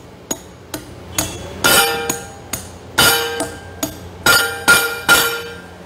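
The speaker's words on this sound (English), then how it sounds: "and then you hammer it like this" Repeated sharp metallic hammer strikes ring out one after another, about a dozen close blows in an uneven rhythm with clinking overtones, as a Hilti HLV-X light-duty anchor is driven into a drilled hole.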